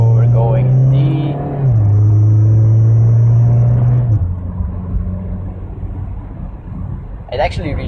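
A Mazda Miata RF rolls along in automatic drive, its engine droning low and steady as the pitch steps down through upshifts, with road rumble underneath and a voice talking over it near the start.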